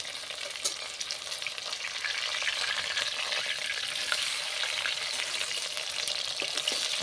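Cabbage slices fry in hot oil for a Bengali maharani bandhakopi dish, giving a close, continuous bright sizzle with small pops that swells slightly after the first second and stays even, with no voices.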